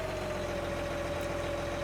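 A steady, continuous engine idle from a tractor in Farming Simulator 19, a constant low hum with a clear tonal drone and no variation.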